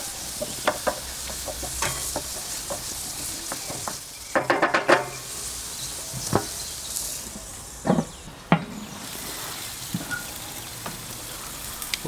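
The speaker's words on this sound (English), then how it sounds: "Give it all a good stir round to ensure that it's thoroughly mixed" Tomato puree stirred into a creamy mushroom sauce in a pan for barbecued pork chops, with a steady soft sizzle throughout, scattered spoon scrapes and clinks against the pan, and a brief cluster of sharper knocks midway.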